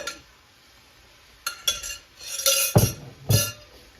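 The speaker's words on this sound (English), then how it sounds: "we're going to stir these into this onion mixture" Sliced mushrooms being stirred into a hot onion mixture in a pot for mushroom soup, with a spoon scraping and clinking against the metal in several irregular bursts over soft sizzling.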